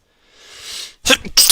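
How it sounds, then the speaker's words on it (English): A single person's sneeze, close and fairly loud, with a soft intake building up before two sharp bursts, heard alone in a quiet room. "I hope that wasn't too loud. I'll sneeze."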